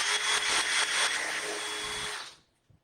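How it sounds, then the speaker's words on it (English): An electric drill bores holes through a wood board, a loud close whirring whine running steadily for about two seconds before spinning down to silence. "You want to make sure your drill is as straight up and down as you can manage it."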